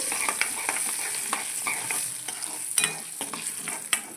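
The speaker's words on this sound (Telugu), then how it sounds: "పోపులన్నీ వేసుకుని ఒక దాని తర్వాత ఒకటి వేసుకుని బాగా వేగనివ్వాలండి" Tempering spices for a pumpkin dappalam fry in hot oil over a medium flame. A continuous crackling sizzle is broken by repeated scraping stirs of the spoon, close and moderately loud.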